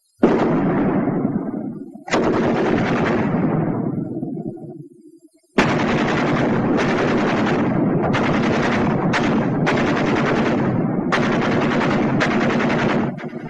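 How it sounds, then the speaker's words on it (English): Loud bursts of machine-gun fire from two WWII-era machine guns, one long volley, then a pause, then repeated rapid bursts trading back and forth with short gaps. "Ever hear a battle between 2 machine guns? They talk back and forth for a while"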